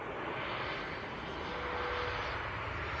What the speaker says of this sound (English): should be the Ryanair from Dublin.